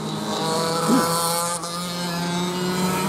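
Racing go-karts in a club heavy qualifying session run down the front straight with a continuous engine drone at mid distance, holding steady throughout.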